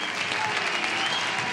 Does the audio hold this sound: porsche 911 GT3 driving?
no